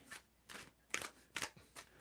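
Tarot cards shuffled by hand in short bursts, five quick riffling crackles spaced about half a second apart, close and fairly quiet with no talking.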